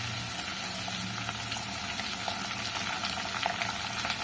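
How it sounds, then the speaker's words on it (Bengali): Ash gourd sautéing in hot oil with five-spice over raised heat, a steady dense sizzle with faint scraping of stirring, continuous and close throughout. "এবার আমি আঁচটা বাড়িয়ে চাল কুমড়োটা একটু কষে নেব।"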